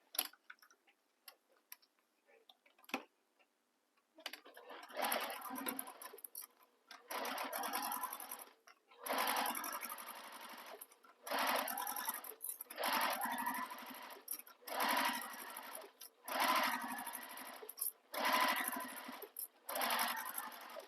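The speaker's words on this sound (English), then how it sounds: "So we're going to sew this long clipped edge here with the seam allowance given in the pattern." Sewing machine stitching a long clipped edge of a fabric tote bag, a fast close mechanical whir coming in repeated runs of a second or two, broken by short pauses, after a few faint clicks at the start.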